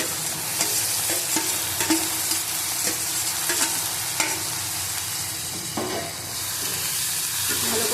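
Roasted tomato added to fried onions in a hot pan, giving a loud, steady sizzle with periodic stirring scrapes and clicks close by and no talk.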